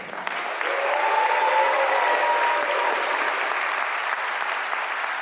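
Audience at a Warner School of Education graduation ceremony giving loud, sustained applause for Doctor of Education graduates, a dense, steady roar of clapping from a large crowd.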